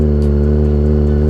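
A bike engine holds a steady rev near 3,000 rpm while the rider slips the clutch before pulling away. The low, even drone is loud and close, with no speech.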